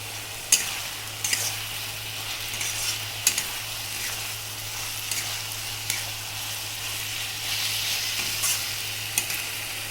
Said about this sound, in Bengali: ভালোভাবে কষানো হয়ে গেছে।